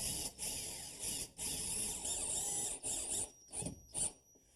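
A power driver runs screws through a kitchen cabinet into wall studs in several bursts, each a whirring buzz that starts and stops, with the pauses growing shorter and the final bursts brief and clipped.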